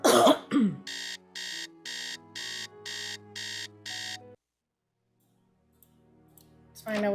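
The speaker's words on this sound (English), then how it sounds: "so let's set the alarm for 3 a.m." An alarm clock rings in the Nancy Drew mystery game Treasure in the Royal Tower, giving seven even electronic beep bursts in steady rhythm, loud and alone, after a brief cough at the start.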